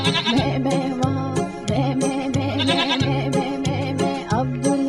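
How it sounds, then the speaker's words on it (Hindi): Goat bleating in an Urdu version of the Old MacDonald nursery rhyme: loud, quavering bleats repeat in a steady rhythm over a bright, jingly musical backing throughout, with no talk. "और उस गाँव में है एक बकरी"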